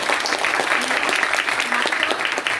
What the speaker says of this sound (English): So give the speakers one more round of applause.